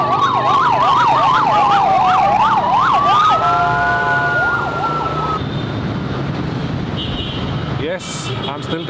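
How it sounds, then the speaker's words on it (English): A wailing emergency siren sweeps up and down in quick cycles, then holds a long tone, over constant traffic noise on a crowded, noisy downtown street in Saigon, Vietnam; loud and close, fading into steady road rumble. "I'm still downtown Saigon. It's noisy, it's crowded, and it's really hot."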